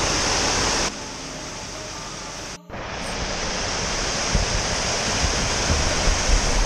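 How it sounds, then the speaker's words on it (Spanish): Water rushes steadily at a water mill beside a path, a broad continuous roar like a stream or small fall, loud and close with a brief dropout midway, and no talking over it. "El molino de agua."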